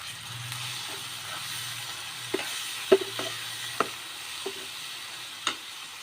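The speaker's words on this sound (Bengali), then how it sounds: "দিয়ে আমি একটু পানি দিয়ে নাড়াচাড়া করব।" Spices with a little water are stirred in a pan for a fish bhuna with onions, giving soft scraping taps and a few sharper clinks over a low, quiet sizzle, with no talking.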